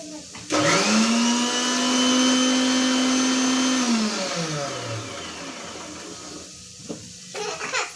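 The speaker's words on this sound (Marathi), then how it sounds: "आता डाळ आणि जी बाजरी आहे ती मी बारीक करून घेणार" Kitchen mixer grinder blitzing lentils and millet into a fine powder, a loud steady whine that starts abruptly, holds for about three seconds, then winds down, with brief clatter afterwards.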